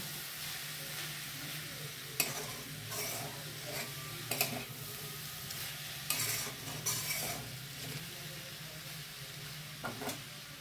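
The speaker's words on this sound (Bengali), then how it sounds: "বাঁধাকপিটা দিয়ে এখন সমানে কষিয়ে যাব" Cabbage is stirred and sautéed in a pan for a Bengali cabbage dish, with a soft continuous sizzle and scattered scraping, clattering strokes of a spatula at irregular intervals, fairly quiet and close.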